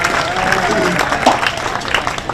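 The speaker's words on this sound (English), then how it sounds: "Let's give her a nice round of applause." A round of applause at a junior livestock show, close, loud clapping with a voice talking over it.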